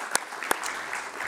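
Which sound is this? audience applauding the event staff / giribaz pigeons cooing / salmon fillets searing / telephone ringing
audience applauding the event staff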